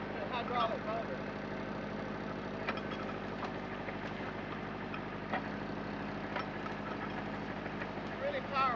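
A sugar cane mill driven by a turbine and hydraulic motor runs with a steady mechanical drone and scattered ticks and knocks, fairly faint and continuous, while a person talks over it.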